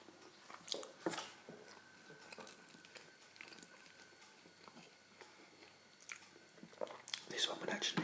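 Close, quiet mouth sounds of someone eating curry with chapati flatbread, with soft wet chews and bites coming in scattered bursts against a hushed background, and a few louder crunchy moments near the start and end.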